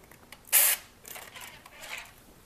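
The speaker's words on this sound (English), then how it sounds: "spray it with a little bit of" A single short, sharp hiss of an avocado oil cooking spray onto parchment paper, followed by quieter rustling and a couple of faint softer sprays.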